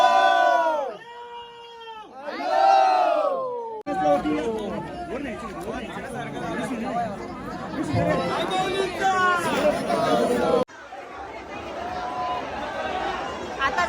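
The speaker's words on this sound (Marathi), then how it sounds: "जाम गर्दी आहे" Dense crowd at the Ekvira Aai palkhi procession, loud overlapping chatter and shouting voices close around, with people talking nearby and abrupt shifts in the din.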